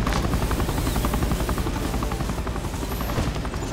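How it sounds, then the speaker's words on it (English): Helicopter flying in the mobile zombie shooter game ZOZ: Final Hour, a steady loud rotor thump and engine drone running continuously throughout. "First, steer the chopper to the glowing circle up ahead."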